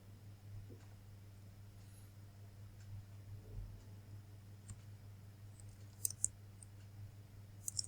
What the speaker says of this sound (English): I click on Next.